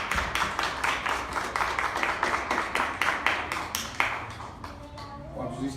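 A church congregation claps in a steady, fairly quick rhythm for several seconds, moderately loud and close. The clapping fades toward the end as voices take over.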